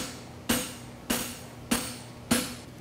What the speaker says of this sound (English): when I brought my hammer down, I bring it down and it expands to the metal